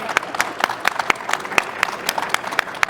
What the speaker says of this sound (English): And one round of applause to these lovely ladies.